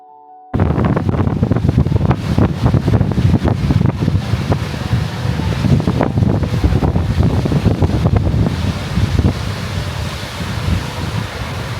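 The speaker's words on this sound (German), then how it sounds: "2 Wasserfälle, ein Fluss und zusammen mit dem Wind genug Kraft, um jede Diskussion über Lautstärke sofort zu beenden" Powerful roar of two waterfalls on the Jökulsá á Fjöllum river in Iceland mixed with gusting wind buffeting the microphone, a dense, loud, continuous rumble that starts abruptly after a brief quiet moment.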